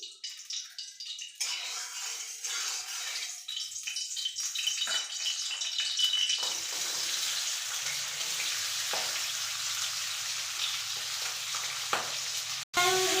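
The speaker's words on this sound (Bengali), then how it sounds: "তেলটা প্রায় গরম হয়ে গেছে। এবার এই ট্যাংরাগুলো এতে ভেজে নিচ্ছি।" Tangra fish frying in hot oil, a soft onset as the fish go in, then a steady broad sizzle building and holding, with a brief clatter near the end.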